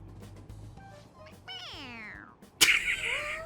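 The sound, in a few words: stuffed cat toy meowing when pressed, from video game Persona 5 Royal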